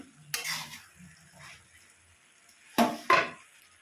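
A spoon scrapes and knocks through cabbage curry with fish heads in a pan, a few separate stirring strokes with clinks against the metal, close and fairly quiet with pauses between.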